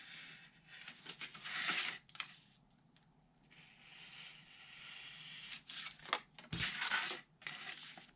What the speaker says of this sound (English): we will remove these 2 corner pieces all together. So I am simply going to cut them out.